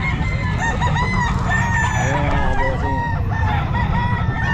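Several roosters and chickens crow and cluck continuously at a pet market in Calumpit, overlapping calls close by, with someone speaking briefly amid the steady livestock din.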